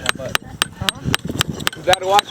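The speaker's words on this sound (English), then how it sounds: "take your smaller hammer and just start tapping on it and watching it" A small hammer taps on jasper rock at a mine, giving a series of sharp, ringing clinks at an irregular pace, close and fairly loud, with no speech.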